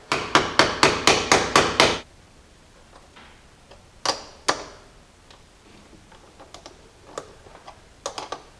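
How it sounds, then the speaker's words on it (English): Hammer taps a part onto a battery terminal in a Jeep during a cable upgrade: a quick run of seven sharp, loud metallic strikes, then a pause and scattered fainter taps and clicks, with no talking. "You can use a hammer, tap it all the way in there"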